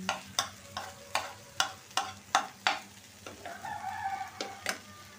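Okra (bhindi) frying in a pan at home, a low steady sizzle punctuated by about a dozen sharp clinks and scrapes of a spatula stirring at a regular pace, close and moderately loud, with no talk.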